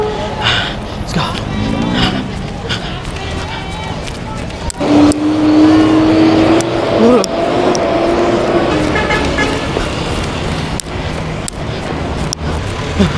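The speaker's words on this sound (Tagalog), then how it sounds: "Ang dami mga sasakyan sa gilid." Cars and traffic rumble steadily along a roadside during a morning fun run, a continuous loud motor wash with passing vehicles, breathing and footsteps close by, and a voice speaking over it.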